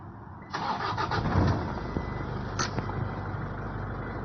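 A Toyota Hilux engine cranks and catches near the microphone, settling into a steady idle after a short starter whirr, with a couple of faint clicks along the way.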